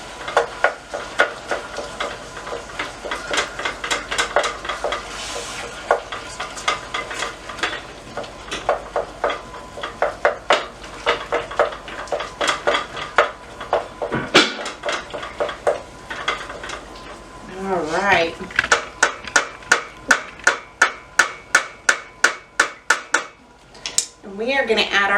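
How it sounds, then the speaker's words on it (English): A utensil scrapes and taps repeatedly against a pan, chopping ground beef as it sizzles, with a rapid run of sharp clacks near the end. "chop this hamburger meat, to almost a little bit, kind of choppy, kind of fine choppy"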